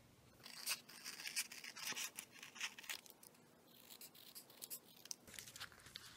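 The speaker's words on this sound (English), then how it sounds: "So I'm going to cut a brown section." Scissors snip through faux suede fabric in a quick series of close, crisp cuts with faint rustling of the material between strokes, quiet and without speech.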